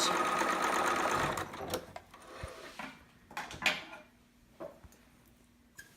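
A sewing machine back-stitches a seam on a two-piece sitter outfit, its fast mechanical whir running loud for about a second and a half, then quieter clicks and handling noises follow, close and with no talk.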